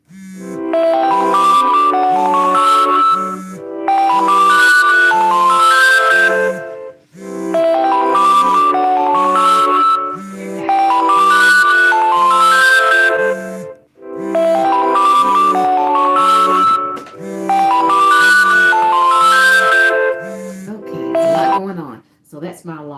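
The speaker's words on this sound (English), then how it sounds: "So that's my alarm." Phone alarm ringing, a looping bright melodic tone over a pulsing low beat, repeated in several loud cycles with brief gaps between them, close and alone.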